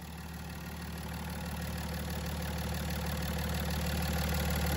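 A diesel engine fed on gasoline, nicknamed Big John, runs steadily at idle after starting, a continuous low rumble with a faint knocking rhythm that grows slightly louder, no voices present.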